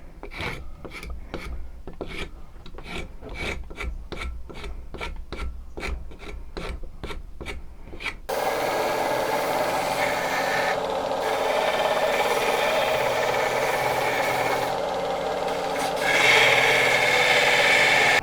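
A wooden Bowie knife handle is shaped with a rasp or file, giving a run of about a dozen evenly spaced, close rasping strokes before the sound changes to a steadier, continuous rubbing and grinding, loud and with no talk.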